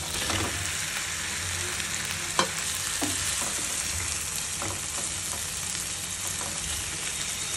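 Fish curry with salt and onion sautéing in a pan, sizzling steadily with occasional stirring scrapes and one sharp clink, close and moderately quiet, with no talk.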